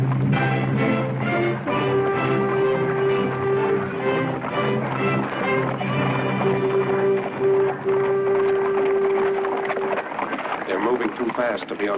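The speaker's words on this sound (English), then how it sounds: "Horses." Horses pulling a period coach trot along with a steady clip-clop of hooves, mixed with a drawn-out tonal background and rustling movement, fairly close and continuous.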